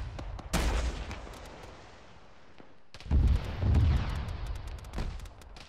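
A BTR armoured vehicle in the military game Arma 3 fires heavy weapon rounds, producing loud booming bursts with rumbling decay, one early blast followed after a pause by a cluster of closer, heavier reports.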